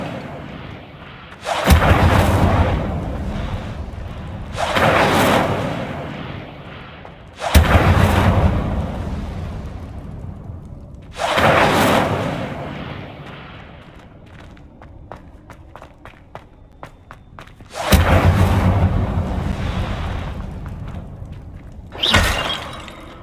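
The Incendio fire spell is cast repeatedly in the video game Hogwarts Legacy, each cast a loud whooshing burst of flame that swells and fades over a couple of seconds, recurring about five times with quieter crackles and game sounds between.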